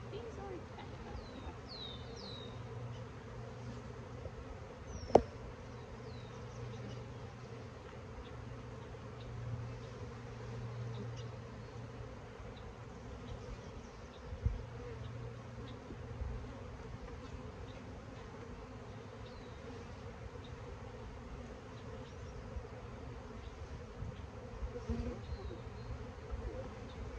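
Honey bees buzz in a dense, continuous drone throughout an open hive inspection of a swarm hive full of bees, with occasional sharp clicks and handling knocks and a person talking intermittently nearby.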